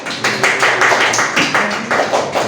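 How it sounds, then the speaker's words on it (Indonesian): An audience gives a short burst of applause for a presenter at a microteaching session, a close, dense patter of claps in uneven waves without speech. "Di aplaus dulu kepada yang menyampaikan."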